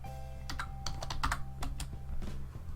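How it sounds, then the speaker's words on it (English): Keys clatter on a computer keyboard as a short word is deleted and retyped, with irregular close taps and a few quicker bursts over a low steady room hum. "You can use the backspace to take out that word and then type in October."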